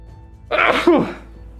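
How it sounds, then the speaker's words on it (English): A single sharp human sneeze bursts out after a quiet moment, close and fairly loud, fading quickly into near silence. "I'm gonna sneeze a lot."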